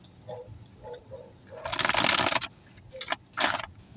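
Soft riffling and slapping of tarot cards being shuffled, a few quiet taps followed by a longer burst of rapid shuffling and two short flurries.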